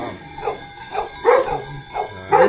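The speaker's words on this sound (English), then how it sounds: "Listen to the sounds of dogs and sheep." Sheepdogs beside a flock of sheep on a farm in Sicily bark and yip close by in a quick run of several short, sharp barks over a couple of seconds.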